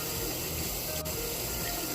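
Water running steadily from a sink tap as cleanser is rinsed off a face, a constant close splashing wash with one brief sharp click midway.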